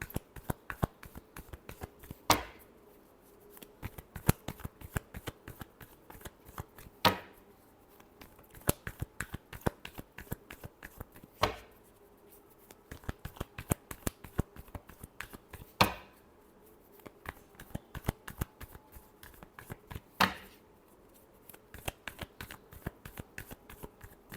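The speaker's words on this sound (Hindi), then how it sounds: "Last shuffle." Tarot cards are shuffled close up in repeated riffling bursts over about twenty-four seconds, with soft flutters punctuated by sharper snaps at regular intervals, quiet and without talk.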